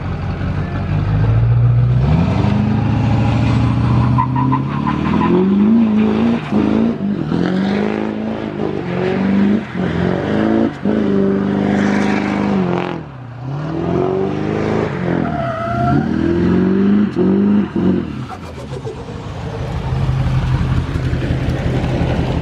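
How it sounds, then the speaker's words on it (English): A big truck with an Allison automatic transmission doing donuts, its engine revving loud and steady while the tires skid and squeal in repeated sweeping bursts, close by with no talking. "I'm gonna throw in the clip from the other night, doing a bunch of donuts, just messing around, driving around, having some fun"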